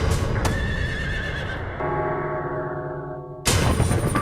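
A horse bolting lets out a loud, close neigh that rises and trails off into a whinny, with a scuffle and a second burst of noise near the end.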